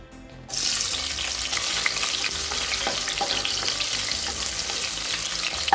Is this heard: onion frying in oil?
yes